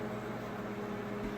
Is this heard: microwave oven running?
yes